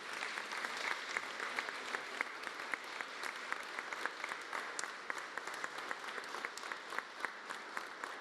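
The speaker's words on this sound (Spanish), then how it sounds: "El reconocimiento de nuestro aplauso para todos los maestros galardonados." Steady applause from an audience at a press conference honoring award-winning teachers, a continuous patter of many hands clapping at moderate distance with no speech.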